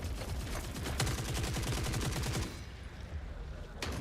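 Rapid automatic gunfire in the video game Forever Winter, a loud sustained burst of rattling shots that cuts off abruptly, followed by a quieter pause and another single shot.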